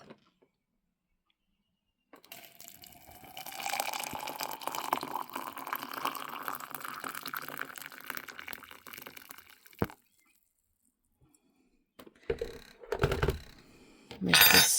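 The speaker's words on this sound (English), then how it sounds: "Let me get some water in here this morning" Water is poured into a cup to make honey-sweetened Irish black tea, a steady splashing pour with a rising pitch as the cup fills, followed by a brief clink and a few light handling sounds at the end.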